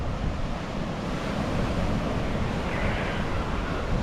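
Sea waves wash steadily onto a beach in Portland, Jamaica, a continuous broad surf roar mixed with wind noise across the microphone, with no voices.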